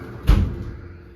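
A bathroom sliding glass door in a Disney's All Star Music resort room gives a single short, close thud that fades quickly, with no talk.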